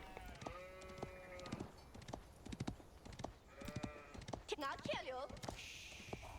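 Sheep bleat repeatedly in the Age of Empires IV strategy game, mixed with clip-clop hooves and other short game effects amid sparse, busy in-game sounds.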